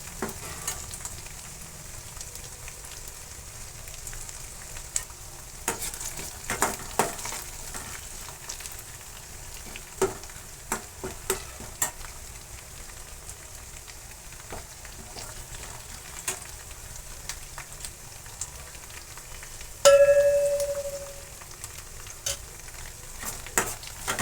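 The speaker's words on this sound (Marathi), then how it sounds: "आता हे देखील आपण तेल सुटेपर्यंत परतून घेणार आहे तेलामध्ये" Chillies and spices sautéing in hot oil for a traditional chandan batwa bhaji, a soft continuous sizzle under frequent sharp stirring clicks and spoon taps, with one brief tonal clink near the end.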